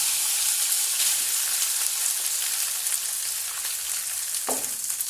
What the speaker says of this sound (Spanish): Sartén caliente con un poquito de aceite. Vamos a colocar la mitad de la mezcla sobre la sartén